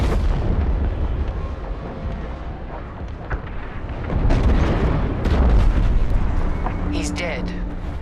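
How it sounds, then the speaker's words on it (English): A frigate explodes in the Star Wars: Squadrons space game, a heavy rumbling blast with deep booms and crackling debris that swells midway, with voices talking over it. "The frigate is about to explode!"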